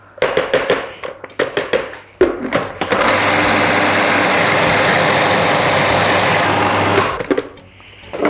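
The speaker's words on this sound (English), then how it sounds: "So I'm going to keep processing till it gets a little bit finer." A food processor blends a sticky cherry mixture in several short pulses, then a steady loud whirring run of about four seconds before it winds down.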